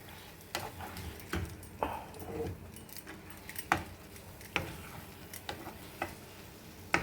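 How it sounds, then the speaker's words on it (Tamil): A spatula scrapes and stirs suji sevai in a kadai over low gas, giving soft irregular scrapes and clicks with a faint sizzle underneath, close and unaccompanied by talk. "இதை வந்து ஒரு சட்டுவத்தை எடுத்து நல்லா இலக்கி கொடுக்கலாம்."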